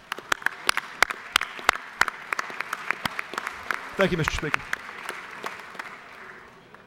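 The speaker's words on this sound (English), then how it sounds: "Let's give them a round of applause." Applause in the Georgia House of Representatives chamber, scattered crisp claps from a moderate crowd with a brief spoken thanks in the middle, tapering off toward the end.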